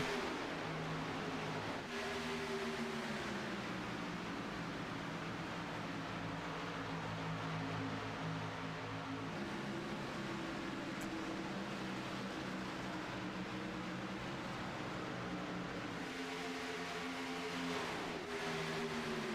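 Race cars in a Daytona stock car racing video game, a continuous engine drone with pitch rising and falling as cars pass and shift, steady and moderately loud with no talk.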